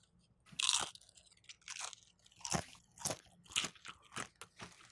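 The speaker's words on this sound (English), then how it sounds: "These are red corn Que Pasa brand chips" Crunching on red corn Que Pasa brand tortilla chips, several sharp, close bites and chews in an irregular rhythm with quiet pauses between, no talking.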